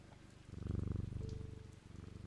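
A cat purrs in the video game Strange Antiquities, with a close, rhythmic rumbling purr that swells in the middle and then settles, with no talk over it.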